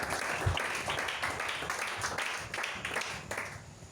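A church congregation claps together in a sustained round of applause, a dense patter of many hands heard from a moderate distance.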